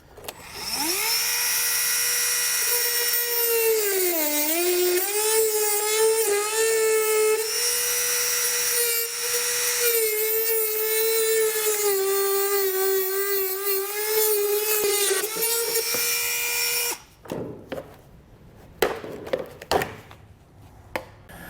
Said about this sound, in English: I'm just going to use a Dremel tool to kind of speed things up